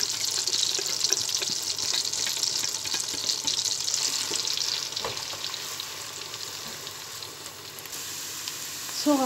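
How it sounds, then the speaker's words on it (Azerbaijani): Chopped onions frying in oil in a pan: a steady, close crackling sizzle throughout, with faint stirring clicks and no voices. "Soğançamız qovrulur."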